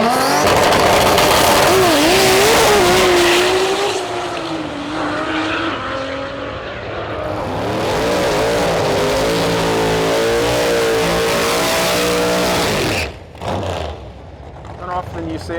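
A JPC-powered Holden VL drag car with a clutchless five-speed Liberty transmission launches at a drag strip. It screams loudly and rises through rapid gear changes, then the sound drops away abruptly while someone talks over it.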